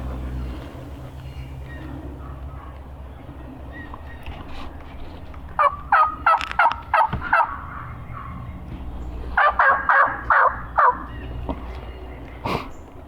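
Wild turkeys, young jakes and mature longbeards, gobble in two loud rattling bursts of several quick calls each, over a low steady outdoor background rumble, with one more brief call near the end.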